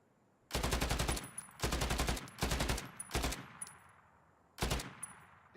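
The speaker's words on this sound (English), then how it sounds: "The automatic rifle." Bursts of fully automatic fire from a BAR automatic rifle in the WWII shooter Battalion 1944, four short rapid volleys of loud shots separated by brief pauses, with no voices.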